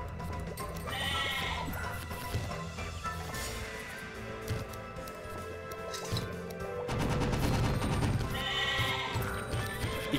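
Sheep in the card game Overdungeon bleat repeatedly amid a busy mix of game music, clattering hits and crashes, the bleats surfacing near the start and again toward the end.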